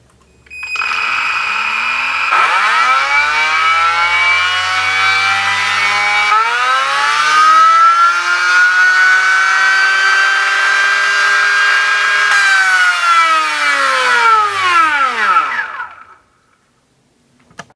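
An RC electric motor run by a Maclan ESC on a Minipro dyno, spinning up with a rising whine, holding a steady high-pitched electric hum for about fourteen seconds, then winding down to silence.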